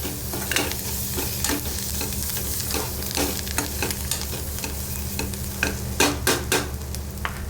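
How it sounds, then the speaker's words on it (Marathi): Capsicum sabzi with peanut powder and coriander being stirred in a pan, with repeated scraping strokes over a steady sizzle, fairly close and loud, with no voices. "मिक्स करून घ्या व्यवस्थित."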